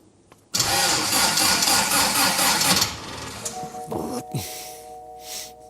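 An engine on a car build cranks over during a start attempt, with a loud, rapid, rhythmic churning for about two seconds before it cuts off. Quieter mechanical hums and whines follow.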